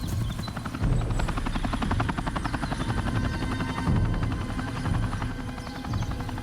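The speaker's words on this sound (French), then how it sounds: "C'est bizarre, c'est le même hélicoptère." A helicopter passes overhead, its rotor chop a loud, steady, continuous beating throughout.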